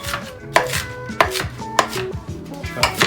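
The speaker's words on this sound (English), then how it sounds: "chop it roughly. Kind of run your knife through it." A knife roughly chopping a bunch of kale on a cutting board, with five sharp crisp chops at an uneven rhythm, close and loud, and no talking.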